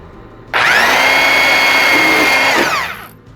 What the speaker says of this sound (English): And now you want to drill somewhere where it's kind of where the arms are.